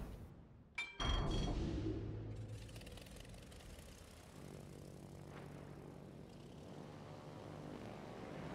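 Propeller aircraft engines drone overhead during a World of Warships naval battle, opening with a sharp loud burst and settling into a steady, sustained rumble with no talking.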